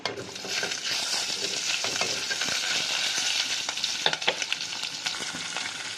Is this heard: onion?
yes